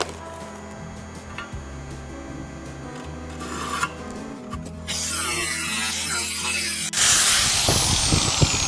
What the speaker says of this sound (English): I'll give these a little file now